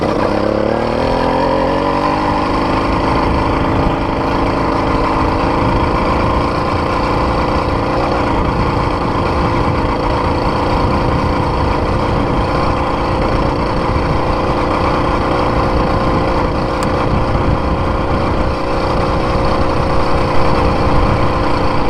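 An 80cc two-stroke engine kit fitted to a cruiser bicycle runs close by, a loud, steady buzzing idle after a brief dip in revs at the start, with no other sounds.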